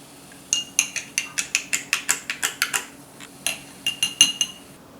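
A spoon stirs a Shirley Temple drink in a glass, giving a quick rhythmic run of about a dozen bright clinks, a short pause, then a few more taps against the glass, close and clear with no talk.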